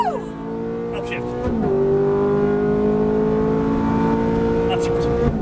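Ferrari F430 accelerating hard on a race track, its engine note rising loudly and steadily after a brief lull and a gear change, with a person talking intermittently over the roar from inside the car.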